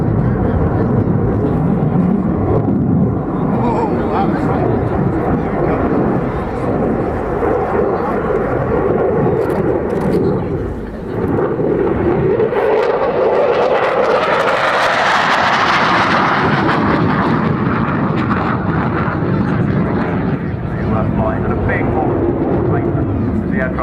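At the RIAT 2014 airshow, a Belgian Air Force F-16 gives a flying display, its jet engine a loud, sustained roar that rises and shifts in pitch as the fighter passes. A commentator talks throughout.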